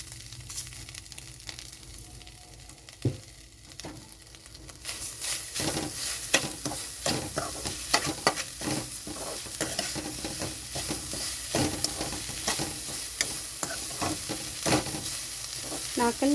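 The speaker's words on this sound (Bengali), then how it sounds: "শুকনো কড়াইতে সুজিটা ভেজে নিতে হবে" Roasted semolina with grated coconut and sugar is stirred in a dry wok, starting quietly and then turning into steady, close scraping and sizzling strokes that keep going without voices.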